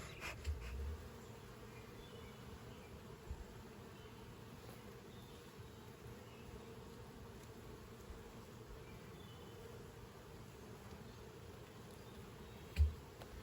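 Honey bees at a hive storing nectar and capping it off, a steady, fairly faint buzzing drone that runs unbroken throughout, with a couple of brief knocks and no voices.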